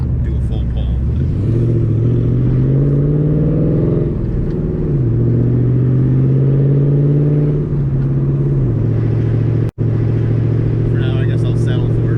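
A 302 stroker Ford Mustang V8 running and driving, a loud, close rumbling engine note that climbs and drops with gear changes and revs, holding steady between shifts, with one sharp click partway through.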